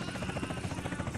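A helicopter in GTA San Andreas drones loudly and steadily, its rotor thudding in a rapid rhythmic chop with a dense, roaring engine wash, close and unbroken, with no speech.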